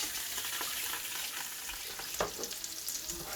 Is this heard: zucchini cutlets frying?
yes